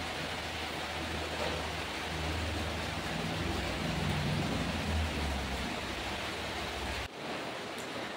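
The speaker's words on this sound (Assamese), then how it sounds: "বৰষুণটো ৰাতিপুৱাৰ পৰা একে লেভেলতে বৰষুণ দি আছে" Steady rain falling outdoors after raining all morning, a dense, even hiss that holds at a constant level from start to finish, with a brief dip near the end.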